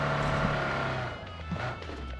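A car drives in PUBG Mobile, its engine a steady drone that eases off halfway, with a couple of brief knocks and a faint rising whine, no talking.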